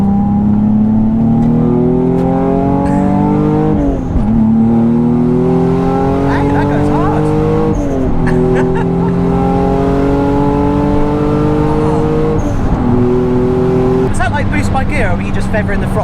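A twin-turbo Nissan 350Z engine revs close by with the throttle feathered, its pitch climbing steadily in four long pulls and dropping between them. The engine sound is loud and steady throughout.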